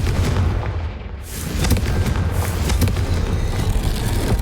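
The Confringo blasting spell in Hogwarts Legacy goes off as a series of loud, heavy booms and crackling blasts that rumble continuously, with sharp bursts near the middle and no talk.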